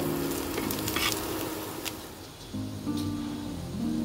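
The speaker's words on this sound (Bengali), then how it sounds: "পেঁয়াজটা আমি আধ কাঁচা করে ভেজে নেব" Steady close-up sizzling of onion frying in oil, with scraping stir sounds and faint tonal hum in the background.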